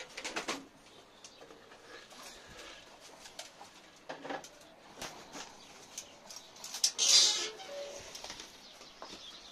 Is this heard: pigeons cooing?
yes